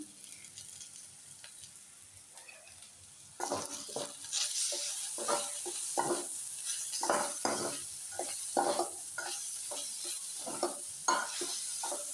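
Ginger garlic paste stirred in a hot pan for chicken curry: a quiet sizzle at first, then louder frying with repeated rhythmic scrapes and knocks of a spoon against the pan, close and continuous.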